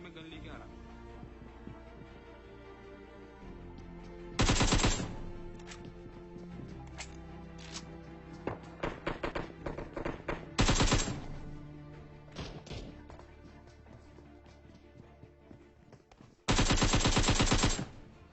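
AKM rifle fire in PUBG Mobile: short sharp single shots and quick bursts ring out, with a few loud bursts standing above steady game ambience.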